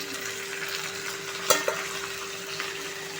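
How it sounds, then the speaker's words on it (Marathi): Okra frying in a pan while being stirred for a potato and okra bhaji, giving a soft continuous sizzle with a couple of sharp utensil clinks against the pan midway, close and fairly quiet. "आता आपण मिक्स करून घेऊया भेंडी"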